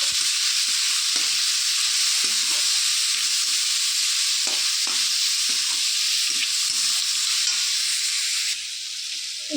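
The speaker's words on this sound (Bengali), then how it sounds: "এবার ভালো করে নেড়ে চেড়ে নেব।" Mango pieces with salt and a little turmeric fry in a pan under a steady loud sizzle, with soft scraping stirs repeating throughout and no voices.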